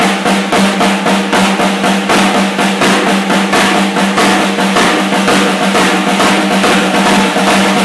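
Drum flams played right-left in a steady, fast repeating pattern, each stroke a sharp crack with a grace note, loud and close with no talking.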